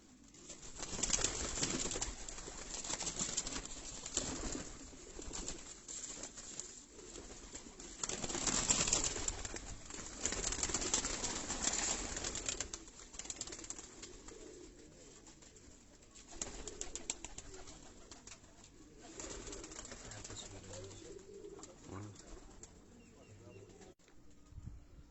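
Breeder pigeons cooing in a loft, soft repeated throaty coos at close range with occasional wing rustles, and people talking quietly in the background.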